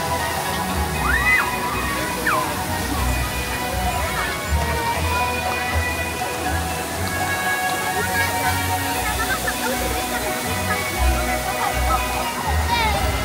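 A water fountain show at the Toverland theme park produces a continuous rushing, sloshing spray, with people talking nearby and faint tonal sounds running through the steady water noise.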